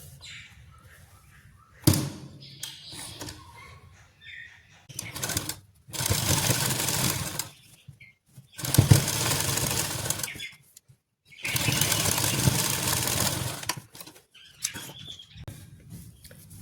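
An electric sewing machine stitches straight lace onto a kameez in several whirring runs of a few seconds each. Short pauses and light handling clicks fall between the runs, heard close with no talk.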